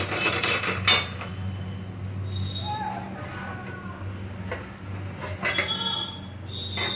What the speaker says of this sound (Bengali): এই এবার ভালো করে এটাকে কষে নেব